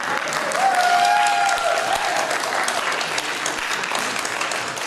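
Audience at a convention panel on intolerance at Equestria LA 2013 bursts into loud, dense clapping that swells early, then holds steady, with a brief whistle-like tone rising over the applause.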